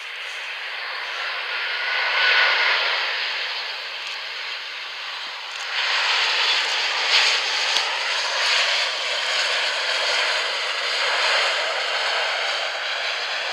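A fixed-wing aircraft landing on runway 05R at Manchester Airport, a steady broad jet roar swelling over the clip with a second louder rise midway, heard from a moderate distance with no talk.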